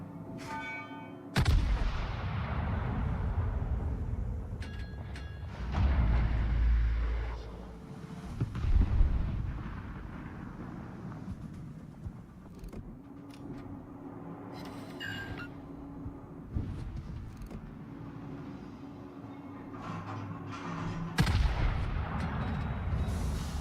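Heavy naval gunfire in the World of Warships video game, with deep booming salvos and rumbling blasts recurring through a dense, loud battle soundscape, voices faintly present underneath.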